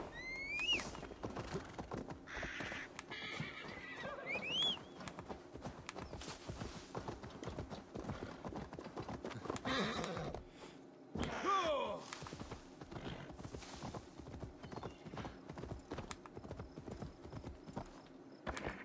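Horse hooves clip-clopping at a steady walking rhythm in the Viking-era game Assassin's Creed Valhalla, close and continuous over a faint ambient background with a few short animal snorts.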